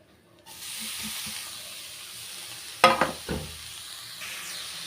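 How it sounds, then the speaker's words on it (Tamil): Grated carrot added to roasted semolina in ghee, quiet silence giving way to a gentle steady sizzle, then a sharp clatter and a couple of stirring scrapes midway before the frying hiss settles again. "இப்போ வந்து துருவி வச்சு அந்த கேரட்டை சேர்த்துக்கிறேன்"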